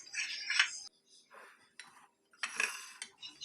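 Utensil scraping and clinking against a bowl while chocolate cake batter is mixed by hand, in three or four bursts of close, bright stirring clatter separated by brief pauses.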